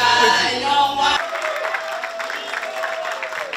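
Church anniversary crowd applauding a group: a steady wash of clapping and crowd noise continues after a musical passage cuts off abruptly, moderately loud and somewhat distant.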